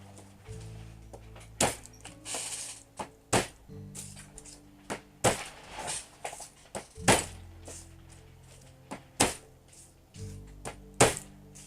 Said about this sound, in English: Times like this where I'm chopping garlic all day